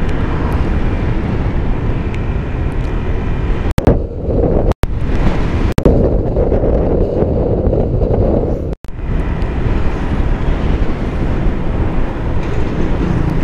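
Strong wind on the road from Olongapo to Mariveles, Bataan, a loud, constant roaring rush buffeting the microphone, broken by a few sharp dropouts.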